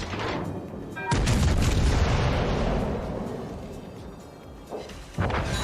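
Shells strike and sink an enemy battleship in World of Warships, with heavy booming explosions rolling into a long rumble and a fresh blast hitting near the end.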